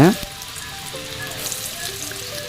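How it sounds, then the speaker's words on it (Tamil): Small balls of onion bonda batter deep-frying in hot oil: a brief splash as they drop in, then an even bubbling sizzle that holds steady and close, with no speech. "நம்ம உருட்டி வச்ச சின்ன சின்ன உருண்டைகளை அப்படியே மெதுவாக எண்ணெயில் சேர்த்துக்கலாங்க"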